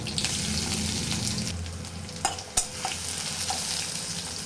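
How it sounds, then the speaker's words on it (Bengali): Dry red chillies, garlic and panch phoron spices sizzle steadily in hot oil in a karai, a close, even crackle broken by a couple of sharp clinks of a spoon against the pan. "কড়া গরম হয়ে গেছে, তেল দিয়ে দিই। মূলো শাক ভাজবো, 5 ফোড়ন দিয়ে দেবো, দিয়ে দেবো শুকনো লঙ্কা, দেবো রসুন"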